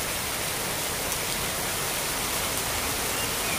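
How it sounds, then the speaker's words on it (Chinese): Heavy rain pouring down outdoors on a street, a dense, even hiss of falling water that fills the whole stretch without a break. "雨下大了， 下大了，"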